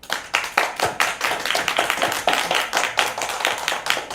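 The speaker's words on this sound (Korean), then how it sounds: "박수 한번." Audience at a Democratic Party members' meeting claps in a steady, dense burst of many hands, sustained and fairly close for the whole stretch with no talking over it.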